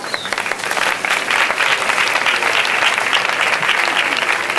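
A crowd at an outdoor 15M movement general assembly in Terrassa applauds steadily and loudly, with a dense, continuous clapping texture throughout.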